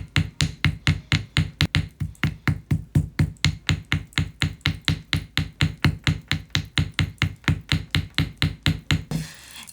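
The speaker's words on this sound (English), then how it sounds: "So you are just going to take that round edge and hit all over it, and make sure to change the angle." A hammer's rounded edge strikes a wire initial pendant to texture it, roughly forty sharp metallic taps in a fast, steady rhythm, close and loud, stopping just before the end with no talk.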